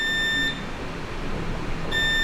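A multimeter set to continuity mode gives a steady high-pitched beep while probing a motherboard. The tone sounds briefly at the start, stops for about a second and a half, then resumes.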